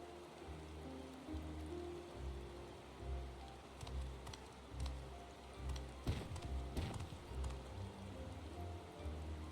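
Steady rainfall in a Final Fantasy XIV forest zone, a dense continuous hiss of drops on surfaces with low rumbling underneath, fairly quiet and unbroken with no voices.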